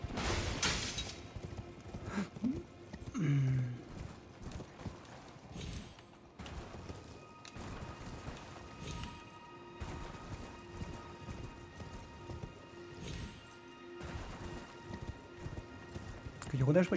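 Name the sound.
horse hooves clip-clop in video game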